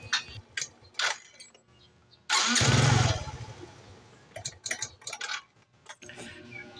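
A Suzuki Smash 115 motorcycle started on its old starter relay: light clicking and ticking, then the engine catches with a loud burst that settles into a brief idle, followed by more sharp ticks and clatter.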